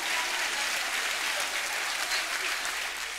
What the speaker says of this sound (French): Allez, on les applaudit encore, s'il vous plaît